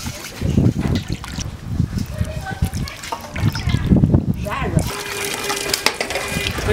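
Running water splashing while tender wood ear mushrooms are rinsed and rubbed clean by hand, with trickling and wet handling noises close up and someone talking throughout.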